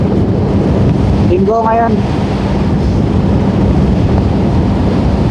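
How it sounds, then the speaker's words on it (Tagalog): Heavy wind roars steadily against an open-face motorcycle helmet while riding toward Tagaytay, a loud constant rush with a brief spoken phrase over it. "So medyo malakas yung hangin kasi ang gamit nating helmet ngayon yung open."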